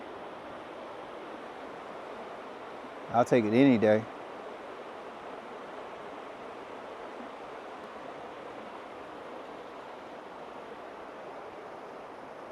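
Running water rushes in a stream at an abandoned mill in Glendale, South Carolina, a constant broad wash throughout, briefly under a voice.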